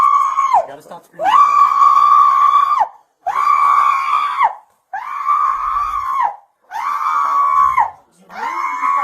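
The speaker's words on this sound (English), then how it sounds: "stop screaming." A woman screams close and loud in long, strained, repeated bursts, each held for a second or more and separated by brief gasping breaks.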